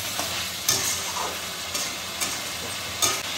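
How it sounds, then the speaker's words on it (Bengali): Mutton pieces being stirred and fried for kosha in a pan, with a steady close sizzle and occasional scraping stirs of the spoon across the pan, no voices. "এবার মাংসগুলো আমরা সব কষাবো, যেরকমভাবে মাংস কষাই নর্মাল মাংস কষাতে থাকবো"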